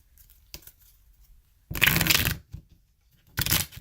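A deck of tarot cards is shuffled by hand in two short riffling bursts, the second shorter, with faint small handling clicks between them, close and quiet.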